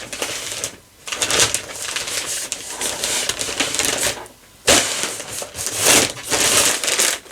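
Plastic packaging from a yarn delivery crinkles and rustles close to the microphone in continuous handling bursts, broken by a couple of brief pauses.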